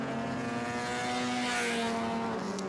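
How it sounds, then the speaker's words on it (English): A classic Lotus Elite racing car's engine roars continuously with a raspy exhaust note from a small pea-shooter exhaust, pitch easing down slightly as it runs, at the Le Mans Classic. "Sort of pea shooter exhaust, but provides a really raughty little engine note"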